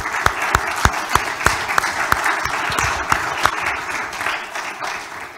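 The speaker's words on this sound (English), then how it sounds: "So why don't we clap for our mothers today," A church congregation claps during a Sunday service, with a few sharp, close individual claps in a brisk rhythm ringing out over a broad, steady wash of group applause that thins and fades toward the end.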